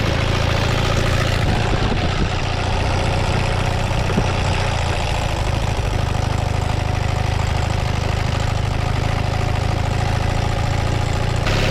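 Ural motorcycle engine running steadily on a rough, washboarded dirt road, a loud continuous low drone with constant rumble and vibration and no talking.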